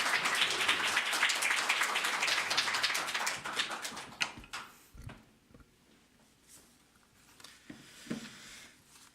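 A church congregation claps to welcome a pastor to the pulpit, dense applause that fills the room for about four seconds, then thins to a few scattered claps and small knocks.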